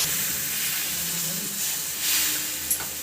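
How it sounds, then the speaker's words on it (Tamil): Steady hissing and bubbling of water boiling in a pan, continuous and fairly close, with no talking. "இப்போ தண்ணி நல்லா கொதிக்க ஆரம்பிச்சிருச்சுங்க"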